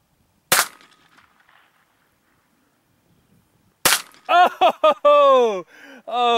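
A pistol fires a trick shot at a playing card, two sharp, loud cracks spaced a few seconds apart with quiet between, followed by excited voices shouting close by.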